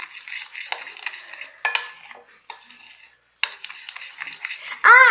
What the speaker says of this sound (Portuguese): Agora eu vou mexer.